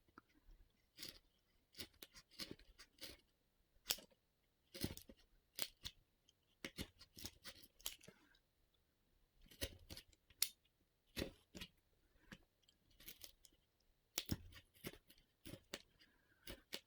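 Scissors make repeated small, crisp snips as they cut material for a handmade diamond painting portfolio, heard close and fairly faint in irregular bursts with short pauses between.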